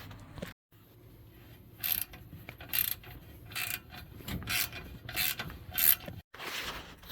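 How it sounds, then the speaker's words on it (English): A hand ratchet works a bolt off a 1991 Dodge Ram W150 engine during a timing chain cover job, giving bursts of quick clicking strokes separated by short pauses, close and fairly quiet. "So we're removing that bolt."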